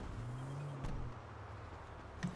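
A car is driven in GTA V, its engine a low steady hum running quietly throughout, with a brief tonal note early on and a faint click near the end.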